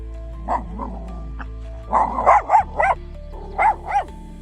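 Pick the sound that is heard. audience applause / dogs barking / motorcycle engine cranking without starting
dogs barking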